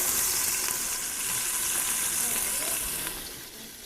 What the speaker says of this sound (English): You want to make sure that the oil is hot enough so when you put stuff in there, it starts to sizzle